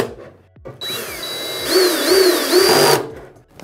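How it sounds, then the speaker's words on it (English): A power drill with a clutch drives screws into the stand of an LG C2 OLED TV, giving a steady whining motor burst of about two seconds with rising and falling pitch, close and loud, with no talking. "if you use a drill, make sure you use one with a clutch on it so you won't over tighten it"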